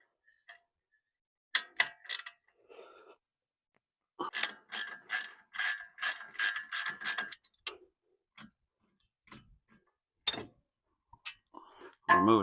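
A ratchet clicks in short, sharp bursts while 18 mm brake caliper mounting bolts are loosened on a 2017 Chevrolet Silverado, close and crisp, with quiet gaps and a few faint knocks between bursts.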